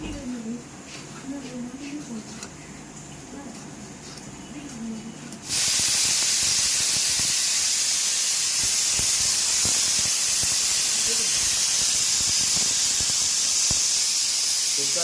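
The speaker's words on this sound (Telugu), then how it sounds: "కుక్కర్" A pressure cooker making mutton boti curry suddenly lets out a loud, continuous hiss of steam after a quieter stretch of kitchen sounds, and it holds steady to the end.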